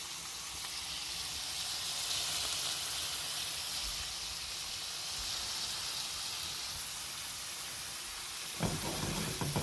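Low-sodium bacon sizzles and spits in a frying pan with a continuous bright crackling hiss, close and steady, with a brief clatter near the end.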